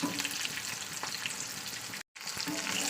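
Onion and garlic sizzle and crackle steadily in a hot pan, close up, with a brief silent gap near the end.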